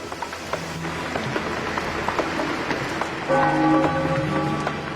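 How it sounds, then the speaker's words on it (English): Constant dense hiss of steady rain during a prolonged October storm in Teziutlán, Mexico, with a low tonal hum joining partway through. "The rain continues a second day."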